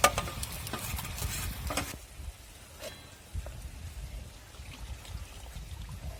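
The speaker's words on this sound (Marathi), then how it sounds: "आता 5 चिंचेच्या पाण्याला बी मस्त उकळी आलेली आहे." A spoon stirs spice masala into tamarind water boiling in a pot, giving loud scraping and bubbling for about two seconds before it settles into a soft, quieter simmer with occasional faint clinks.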